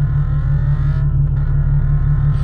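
Nissan 370Z engine pulling under acceleration after an RJM clutch install, a continuous deep rumbling drone heard from inside the cabin, loud and even with no break in the tone.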